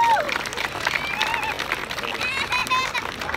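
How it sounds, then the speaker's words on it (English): Crowd applause at a Boston charity 5K walk and run event, a moderate outdoor patter of clapping with some cheering, while a voice talks over it through much of the time. "That's worthy of applause."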